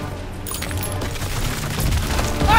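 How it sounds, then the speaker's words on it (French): An artillery barrage in a war video game: a loud, unbroken roar of overlapping explosions and rumbling blasts that swells toward the end, close and dense with no clear gaps. "Barrage d'artillerie!"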